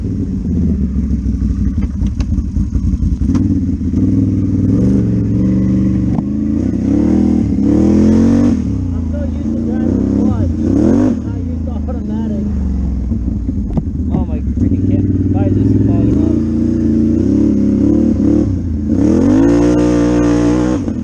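A project vehicle's engine idles steadily and close by, shifting into reverse with a brief rise, under someone talking nearly throughout.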